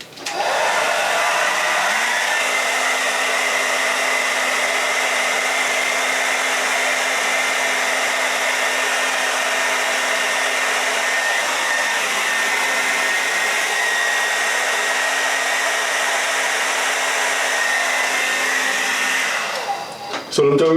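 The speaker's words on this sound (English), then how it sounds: "I'm going to blast it with cold air from the hairdryer" A hair dryer blasts air onto a beard in one steady, loud, continuous whoosh with a low hum beneath, running for nearly the whole stretch before cutting off abruptly.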